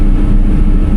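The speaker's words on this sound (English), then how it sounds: "Throttle up." The engine of a cotton harvester rumbles loud and close with a steady, heavy low drone throughout the short stretch, and no voices are heard.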